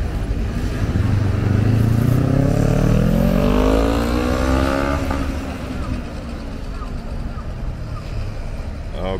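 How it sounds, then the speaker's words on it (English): Cars drifting on a city street in Osaka, one engine revving and sweeping up in pitch then falling away over a few seconds, loud and close amid crowd noise and chatter. "We got drifting going on here."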